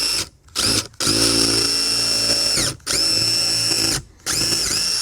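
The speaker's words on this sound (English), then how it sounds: "So with this cutter head, we should be able to drill this." A power drill with a cutter head whines loudly in several bursts, briefly stopping and restarting as it bores into composite decking.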